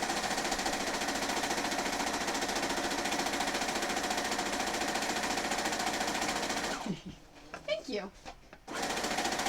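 A sewing machine runs steadily while stitching two-color Tetris quilt blocks, a continuous close whirring drone that stops abruptly near the end, leaving a brief pause with a voice speaking.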